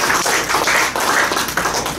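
An audience applauding for a speaker at the end of a forum session, with close, dense clapping that pulses unevenly for about two seconds.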